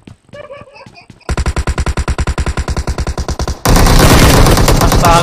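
Loud video game gunfire ending in a headshot: a few sparse shots, then a rapid automatic burst of evenly spaced cracks, followed by a dense, sustained roar of fire.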